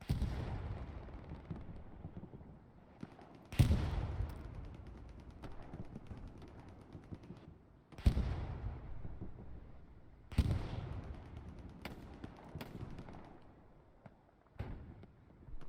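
Artillery fire in a Utah Beach match of a competitive World War II shooter, heard as a series of heavy booming blasts spaced several seconds apart, each with a rumbling tail, over a low background din.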